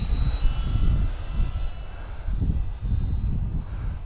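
Turbo Timber EVO RC airplane in flight, its electric motor giving a steady droning whine with a low rumble that swells and fades as the plane passes, no talking.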